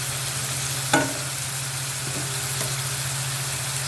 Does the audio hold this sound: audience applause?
no